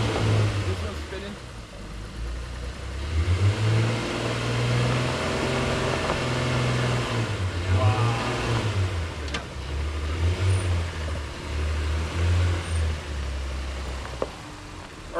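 A mid-sized Honda overlander with a locker revs hard while one wheel spins, the engine note climbing and falling in repeated surges up close, with people talking over it.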